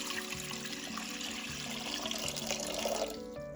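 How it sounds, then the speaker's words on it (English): Water pours steadily into a large cooking pot, a continuous filling rush that holds at an even, fairly loud level, with the tone shifting slightly toward the end as the pot fills. "Take a large pot and add enough water."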